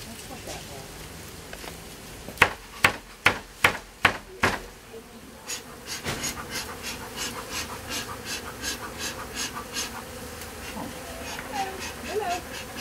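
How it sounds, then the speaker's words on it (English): Honey bees from a swarm being removed at a house buzz in a steady close drone, preceded by a run of sharp rhythmic clicks or taps; the buzzing continues under faint background sound. "Quite a lot of bees there."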